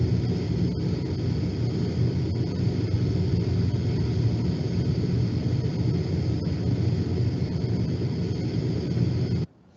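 Airflow through a 40 mm CLIMAVER apta insulated HVAC duct in a noise test produces an even, continuous whoosh with low-end rumble, sustained for nearly ten seconds and then stopping suddenly; no one speaks.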